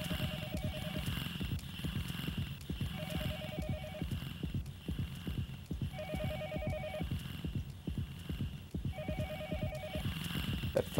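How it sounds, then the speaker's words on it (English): Telephone ringing in the video game Yomawari Night Alone, repeating double-burst electronic rings about every three seconds over a busy layer of rhythmic thumping footsteps and game ambience. "Yes, I know that's a phone."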